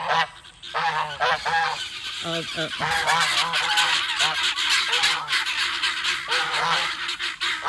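Geese honk loudly and repeatedly in a noisy chorus on a farm, close by, with overlapping harsh calls throughout and no pauses.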